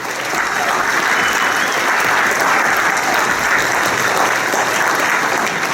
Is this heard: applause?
yes